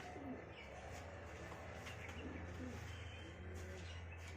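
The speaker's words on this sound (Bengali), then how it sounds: "সব পায়রাগুলোকে খাঁচায় ছেড়ে দেখাচ্ছি দেখো পায়রাগুলো সব একদম ফিট" Soft, low coos from high flyer pigeons in a cage repeat under a steady background hum, with faint chirps scattered across the few seconds.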